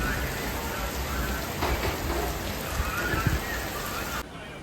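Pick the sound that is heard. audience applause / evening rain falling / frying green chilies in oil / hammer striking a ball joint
evening rain falling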